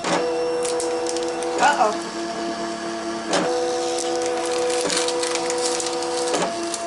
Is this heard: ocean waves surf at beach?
no